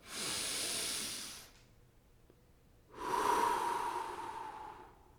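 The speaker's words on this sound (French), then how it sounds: "à chaque fois que tu prends une profonde inspiration" A slow, deep breath drawn in through the nose or mouth, close and hissy, followed after a short quiet gap by a long breathy exhale; no talking.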